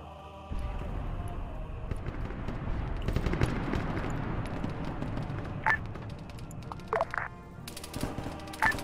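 Friendly fire in Arma 3 rattles as sustained automatic gunfire, a mix of near and distant bursts over a rumbling background, with sharper individual shots near the end.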